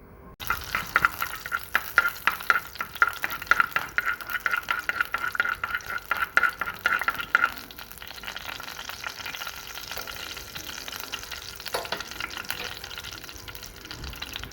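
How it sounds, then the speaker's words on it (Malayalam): Fenugreek seeds fry in hot coconut oil, crackling and spattering loudly while being stirred, then easing into a softer, steady sizzle. "ഈ വെളിച്ചെണ്ണ ചൂടായിട്ടുണ്ട്. അതിലേക്ക് ഞാൻ ലേശം ഉലുവ ചേർക്കാം. ഇനി ഉലുവയൊന്ന് മൂക്കട്ടെ."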